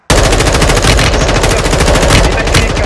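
Sustained rapid automatic gunfire from Call of Duty Warzone 2.0, loud and close, a dense unbroken burst of shots filling the whole stretch.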